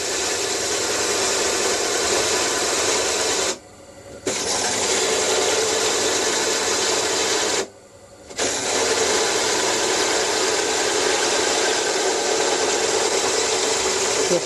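A blunt, old cutter grinding through metal in a loud, steady harsh rasp, briefly stopping twice before resuming, close and continuous.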